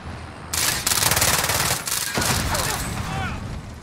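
Rapid automatic gunfire in Call of Duty: Warzone, loud and dense bursts that sustain throughout, with a player's voice shouting over the shots.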